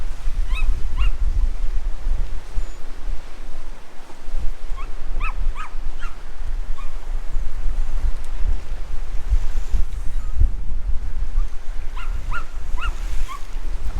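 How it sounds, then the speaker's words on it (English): Sea waves lap around rocks standing out from the water along the Lake District coast, a steady loud wash blended with gusting wind noise on the microphone and a few brief high chirps. "There's a few rocks that are standing out and the waves are lapping round them."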